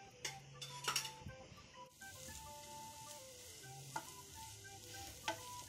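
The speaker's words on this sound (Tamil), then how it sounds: "வாழைக்காய் வறுவல் செஞ்சிட்டு இருக்கேன்." Raw banana (plantain) slices frying in a pan for a tomato-rice lunch, giving a steady sizzle with scattered clinks and scraping from stirring utensils against the pan.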